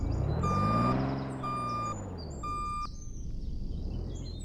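A truck reversing in the Emergency video game sounds three evenly spaced electronic beeps over a low engine rumble that swells and fades, with faint ambient noise after.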